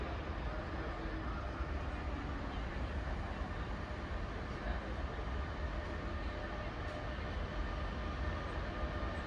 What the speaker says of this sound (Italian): Il treno Italo Alta Velocità 8977, proveniente da Milano Centrale e diretto a Venezia Santa Lucia, delle ore 11:34, è in arrivo al binario 5.